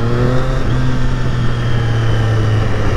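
A 2020 Triumph Street Triple RS motorcycle engine pulls hard in second gear, a loud, steady, rising drone with clear harmonic tones sustained throughout.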